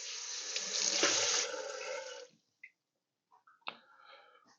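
Water poured from a cup into a manti dough mixture of flour and salt in a kitchen, a steady close splashing stream lasting about two seconds, followed by a few faint clinks and handling sounds.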